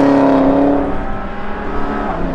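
A Cadillac CT5-V Blackwing runs an autocross course, its engine roaring loud and steady close by, easing slightly as it moves through the course.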